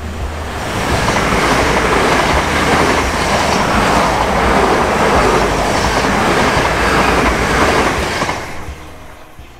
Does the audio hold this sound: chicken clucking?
no